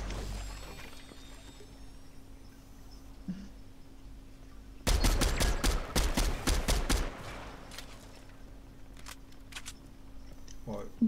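Rapid burst of video game gunfire, loud and close for about two seconds in the middle, with a few single shots afterward, set against a low steady hum during online multiplayer play.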